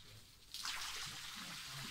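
Water pours in a villa's nymphaeum fountain at Villa Litta in Lainate, starting abruptly after a quiet half second and then running as a steady, close, full splashing rush with low murmurs underneath.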